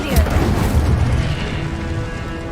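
An Incendio fire spell cast in Hogwarts Legacy bursts out as a loud, close whooshing boom that swells at the start and rumbles down as it fades.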